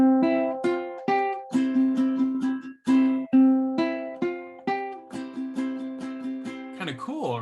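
A ukulele plays the When the Saints riff, mixing melody notes with strummed chords in a bright, bouncy rhythm, close and clear, with no voices.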